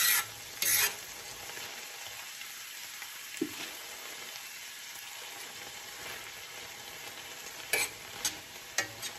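Hamburger patties cooking in gravy in a pan give a constant soft sizzle and bubble, with a few louder scrapes and clatters from stirring near the start and end.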